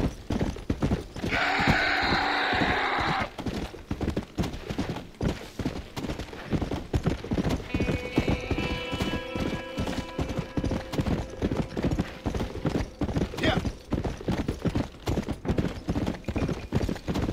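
Horse hooves clip-clop steadily throughout, close and continuous, in Red Dead Redemption Undead Nightmare, with a brief whinny-like burst near the start and tonal game sounds in the middle.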